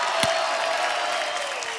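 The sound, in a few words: audience applause on a TV comedy show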